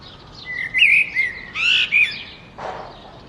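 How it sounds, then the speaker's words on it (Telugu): Birds chirp and tweet at a Florida beach, several short bright calls in quick bursts, fairly close and clear over a soft background hiss, ending with one brief noisy rustle. "అసలు ఎంటర్ కాగానే బర్డ్స్ సౌండ్ అయితే ఉందండి"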